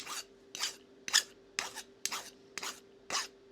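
Steady back-and-forth rasping of a file sharpening a copper bar about a quarter inch thick, seven evenly spaced strokes roughly every half second, close and clear with a faint steady hum underneath.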